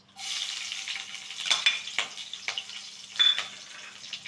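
Green chili dropped into hot oil with crackled mustard, cumin and fenugreek seeds for a village-style potato and pea curry, sizzling and frying steadily with sharp bursts of crackle and stirring clatter close by.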